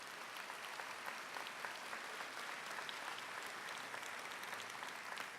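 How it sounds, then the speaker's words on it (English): Audience at a Kankakakee Community College commencement applauds steadily, a dense, even wash of clapping from many hands sustained throughout without pause. "Let's give them a round of applause for their guidance."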